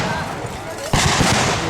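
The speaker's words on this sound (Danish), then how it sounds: "Og der kommer en kanonskud i baggrunden." At a Nyborg battle reenactment, a cannon fires in the background with a sudden broad boom and rolling crackle partway through, while a voice talks over the outdoor noise of the crowd.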